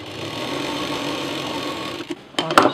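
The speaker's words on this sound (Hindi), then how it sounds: "अब इसको यहाँ पर हम सीधा सिल देंगे" A sewing machine stitches a straight seam on a zipless tiffin case, a steady fast mechanical whir close by, ending in a few clicks and handling knocks.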